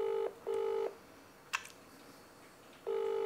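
Outgoing phone call tones, a ringback pattern of paired steady electronic tones with gaps, repeating, plus a brief click in between; no voices.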